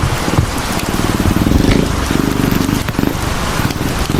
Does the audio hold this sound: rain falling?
yes